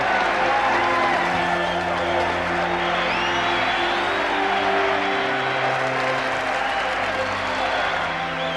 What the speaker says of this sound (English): The crowd goes absolutely wild.